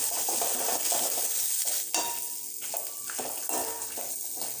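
Onions sauté with rock salt in a pan, a steady loud sizzle broken by a few scraping stirs and light clinks of a utensil.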